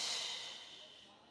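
A deep belly-breathing exhale during a core workout: one long, breathy hiss that starts strong and gradually fades over about a second, quiet and close.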